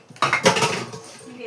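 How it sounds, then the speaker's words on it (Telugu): A lid is set onto a cooking pot on a home stove, giving a short metallic clatter and clink up close, followed by faint kitchen noise. "మూత పెడతాను, అలా ఉడుకుతుంది"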